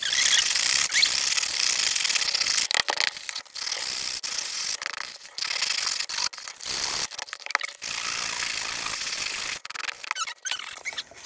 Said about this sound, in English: the next thing I'm going to do is sand off a lot of this roughness